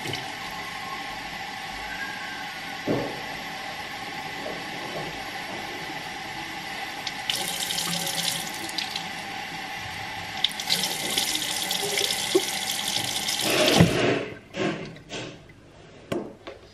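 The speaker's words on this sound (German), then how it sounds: "Ich habe jetzt den Wassertank zur Hand genommen und werde den mal mit Wasser befüllen." Tap water running into a robot vacuum's water tank at a sink, a steady close hiss of flowing water that grows brighter as the stream hits the tank, then stops with a few handling knocks.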